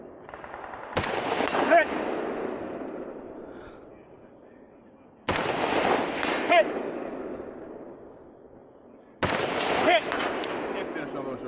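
Rifle shots on a multigun competition stage: three sharp, loud reports spaced about four seconds apart, each followed by a long, fading rumble of echo.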